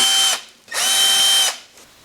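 Power driver whirring in two bursts, a short one then a longer one, while backing T30 Torx screws out of a body panel on a KTM 1290 Super Adventure motorcycle; close and loud with a steady high whine.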